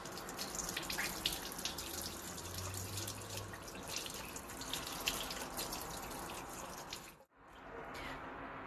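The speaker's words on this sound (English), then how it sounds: "I'm going to rinse off my hands." Hands being rinsed under a running tap, a steady close splash of flowing water into a sink that cuts off sharply near the end, with no talking.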